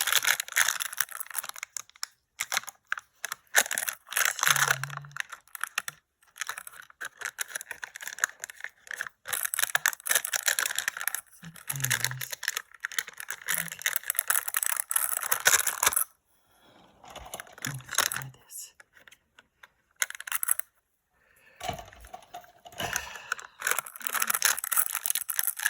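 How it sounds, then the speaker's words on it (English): Tape being peeled and pulled off an object at close range, a run of crackling, ripping bursts broken by short pauses, with no voice. "I can get this tape off of here."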